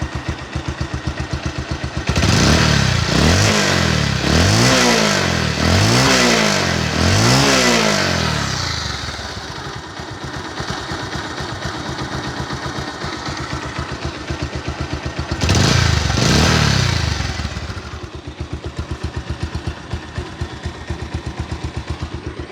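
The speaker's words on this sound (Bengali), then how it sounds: "এবার আপনাদেরকে গাড়ির ইঞ্জিনের সাউন্ডটা যদি একটু শোনাই দিই।" A used Bajaj Pulsar 150cc motorcycle engine idling close up, blipped through several quick rev surges early on, then settling to a steady idle before one more throttle burst and a return to idle, with no talking.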